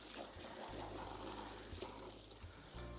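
Water pours and gushes steadily into a muddy pig pen, a continuous splashing rush with a low mechanical hum pulsing underneath.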